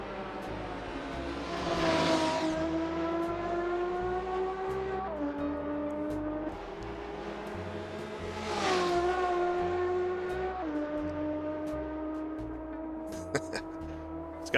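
Race car engine in the Assetto Corsa driving game during a historic sportscar race at the Nordschleife, with sustained harmonic engine tones rising through the gears, two clear upshift drops, and steady loud drone throughout.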